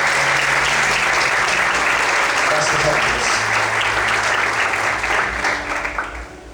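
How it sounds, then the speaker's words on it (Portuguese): A church congregation applauds loudly and continuously in a dense, sustained wash of clapping, with a voice briefly speaking over it before the applause tapers at the end. "Você pode desocupar sua mão e aplaudir ao Senhor nessa noite?"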